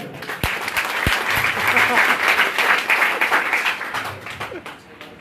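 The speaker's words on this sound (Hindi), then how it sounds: "एक बार सभी से अनुरोध है, म्यूजिक वाले भैया के लिए भी ताली बजा दो" Seminar audience applauds for the music operator, loud, dense clapping with a few sharp thumps early on, sustained and then easing near the end, with some crowd voices mixed in.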